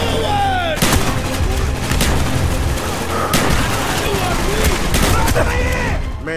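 Heavy gunfire in Call of Duty: Black Ops, with loud continuous bursts of automatic fire and explosions filling the whole stretch while voices shout over the battle.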